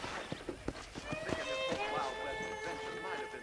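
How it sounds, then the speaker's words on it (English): Rhythmic hoofbeats of a horse galloping in the video game Red Dead Redemption, quick clip-clop thuds over a tonal musical backdrop, fading into a steady hum toward the end. "let's see if you can still ride a horse"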